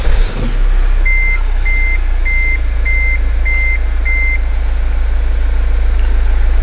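A Mazda CX-5 engine with a fuel gauge fault reading empty cranks and catches, then idles steadily while six evenly spaced electronic chimes ring over the running motor.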